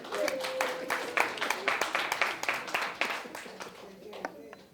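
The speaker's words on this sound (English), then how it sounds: "It's Also, the part where y'all clap." Attendees at a city commission meeting clap after a motion carries, a short burst of separate, fairly sharp hand claps that thins out toward the end, under quiet chatter and some talking.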